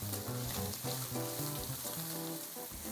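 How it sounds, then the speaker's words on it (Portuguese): Bacon fries in a pan with a continuous dense sizzle and crackle, steady and close, while garlic is being added for Minas Gerais-style feijão tropeiro; no one speaks. "À medida que o bacon vai fritando"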